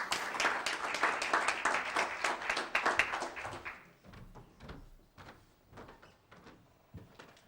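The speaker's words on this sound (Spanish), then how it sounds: "para ella también les pido un fuerte aplauso" Applause for a presenter at a book launch, a burst of clapping for about four seconds that thins out into scattered individual claps and small knocks.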